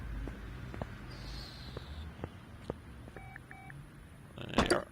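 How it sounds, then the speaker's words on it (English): A telephone in the video game Car Mechanic Simulator 2018 gives a short electronic two-tone signal amid scattered soft clicks, followed by a brief louder burst of noise at the end, with no talking. "That was our phone ringing."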